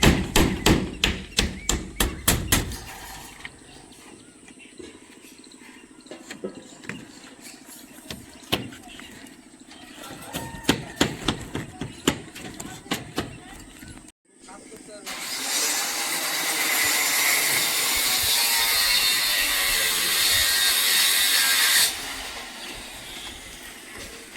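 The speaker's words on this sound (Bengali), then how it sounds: "এখন ছাদের লাস্ট ফিনিশিং কাজ চলছে সেন্টারিংয়ের।" Hammer blows ring out during roof centering formwork construction, first in quick bursts of sharp metallic strikes, then scattered hits, followed by a long steady broadband noise; nearby and fairly loud.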